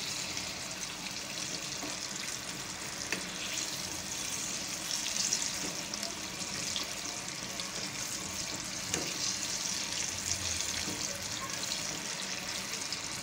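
Crispy KFC-style chicken pieces frying in hot oil, a steady dense sizzle and crackle running continuously at close range, with faint stirring and no talk.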